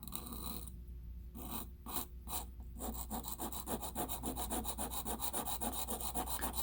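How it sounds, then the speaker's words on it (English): A tiny chisel is sharpened on a sharpening stone with close, faint strokes: a few separate scrapes at first, then a steady, fast back-and-forth rasping rub. "But I'm going to sharpen it like this."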